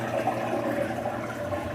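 Water pours from a pipe as a waterfall into a large saltwater aquarium tank, a steady close splashing rush with no break.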